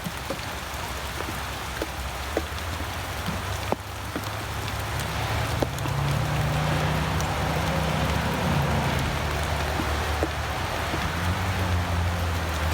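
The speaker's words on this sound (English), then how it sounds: "sitting in the rain underneath a 5-minute lean-to" Steady rain patters on a lean-to shelter outdoors, with scattered louder drips and taps standing out against the constant close hiss.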